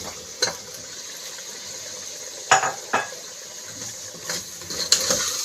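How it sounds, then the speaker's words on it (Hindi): A kilogram of chicken stirred and frying in a pot, with soft continuous sizzling and several sharp metallic spoon scrapes and clanks against the pot, close and alone. "इसको 3 से 4 मिनट अच्छे से भूनेंगे जब तक इसका कलर चेंज नहीं हो जाता"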